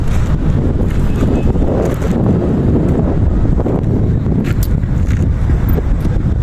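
Strong wind roars and buffets the microphone continuously, a dense rumbling gust noise filling the whole clip with no speech, on the Cebu–Cordova Link Expressway (CCLEX) bridge.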